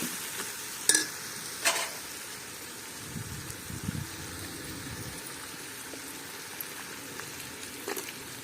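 Curd being stirred into a quail biryani masala in a village-style pot: a steady soft sizzle and wet scraping, with a few sharper spoon knocks early on and a low churning stretch in the middle.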